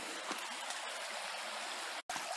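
A little creek in a hidden wooded valley in Sheldon, Washington, flowing steadily with a dense, even rush of water, close and constant throughout, with one very brief dropout near the end and no voices.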